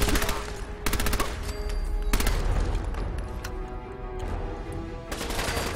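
Rapid automatic gunfire from a gun in the video game Fallout 4 rips out in several loud bursts, with short pauses between volleys.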